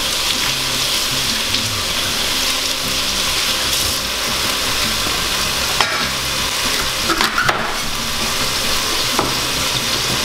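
Chopped celery is stirred in a soup pot, with loud, busy scraping and shuffling over a frying sizzle and a few sharp knocks, heard close and with no talk.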